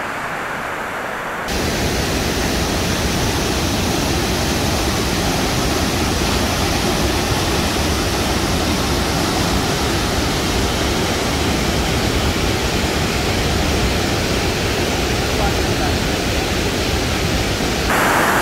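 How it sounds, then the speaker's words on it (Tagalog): Continuous broadband rush of a waterfall in Geiranger, Norway, heard close and loud, a steady hiss and roar that starts abruptly after a quieter opening moment and stays constant, with no voices. "The waterfall walk, 50 meters."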